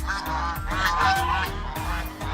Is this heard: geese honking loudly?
yes